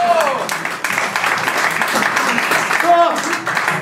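An audience applauding at a live comedy performance, a dense spread of clapping throughout with voices calling out over it.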